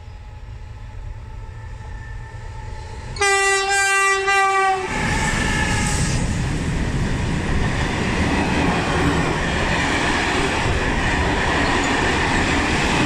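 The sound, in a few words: train passing through Anzola Emilia station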